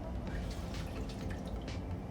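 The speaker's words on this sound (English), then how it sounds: "So we have our milk measured out, and we're going to pour it in." A measured cup of milk poured into a pot, making a short, steady liquid trickle and splash up close with no speech.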